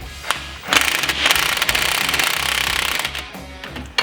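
An impact wrench with a 1/2 inch socket hammering a nut insert tight on an aluminum Jeep Wrangler tailgate, a loud rapid rattling burst of about three seconds, close and alone.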